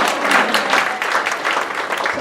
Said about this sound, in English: Big round of applause for Carl